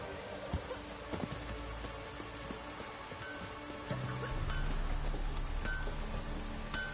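Heavy rain pours down in The Witcher 3, a dense steady hiss of drops on surfaces with scattered pattering, thickening into a louder downpour partway through, with no speech over it.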